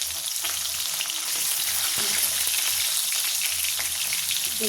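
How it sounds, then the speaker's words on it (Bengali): Fish frying in hot oil, a loud steady sizzle with crackles and pops throughout, close up, no voices. "মাছের তেলগুলো যা টকটক করে ফুটছে না, একদম গায়ে এসে পুরো পড়ছে"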